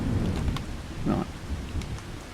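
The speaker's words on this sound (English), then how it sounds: "It's raining." Steady rain with a low rumble of thunder in Farming Simulator 25, a dense continuous wash of patter with a swell of rumbling in the middle, close and fairly loud with no voices.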